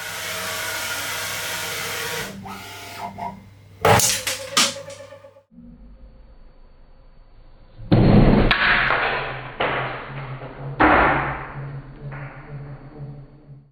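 A CNC milling machine inside an enclosure drives its tool into the workpiece with the spindle stopped, giving loud, sharp thuds and a pinging impact, then two harsh grinding bursts. A steady fan-like hum runs underneath throughout.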